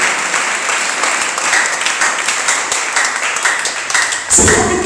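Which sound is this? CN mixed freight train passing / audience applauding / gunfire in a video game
audience applauding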